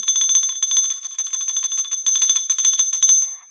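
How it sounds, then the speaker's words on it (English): A bell rings continuously in rapid, bright repeated strikes, close and loud, jingling steadily for several seconds with a brief break partway, with no talk over it. "the bell started ringing joyously"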